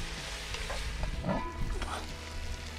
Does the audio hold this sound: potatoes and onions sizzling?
yes